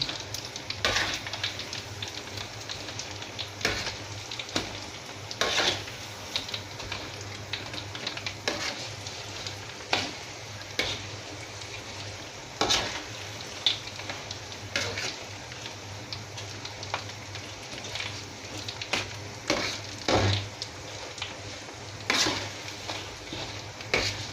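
Tofu fries crisp in hot oil with a constant sizzle, broken by repeated sharp clicks and scrapes from stirring.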